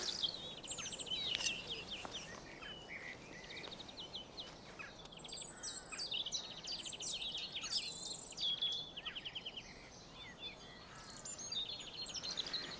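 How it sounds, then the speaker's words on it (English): Several birds sing and chirp in a spring garden, with bright overlapping trills and tweets at moderate distance over a soft outdoor hiss and faint insect buzz, with no talking. "Birds singing. Is that not the representation of spring?"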